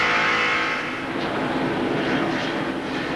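An STP Pontiac stock car at the 1993 Pepsi 400 roars steadily as it accelerates out of a corner, a loud, continuous engine drone with no talk over it.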